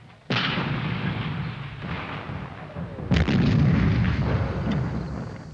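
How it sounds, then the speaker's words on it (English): Artillery shells fire and burst in a wartime battle, with a sharp blast followed by a rumbling roar, then a second heavy boom and a sustained rolling crackle. "The sounds of his own shells, outgoing, are still vivid for Japanese mountain gunner Shigetoki Hosoki"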